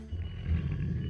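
A pet tiger gives a short, deep, rumbling growl-roar up close, low and sustained for about a second.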